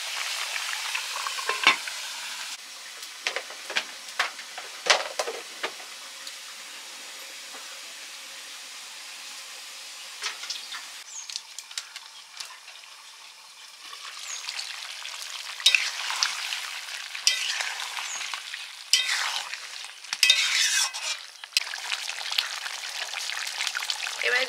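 Chicken meat sizzles and fries steadily in a pan, a close, continuous hiss with occasional stirring scrapes and crackles, swelling louder in the second half.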